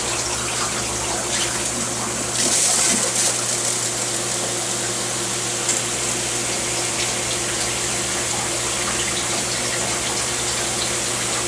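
A stainless steel wet bench fills its quick dump rinse tank with a loud, steady rush of water, and a short brighter gush comes early on. No one talks.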